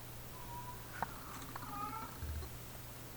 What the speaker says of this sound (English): I hear my cat meowing.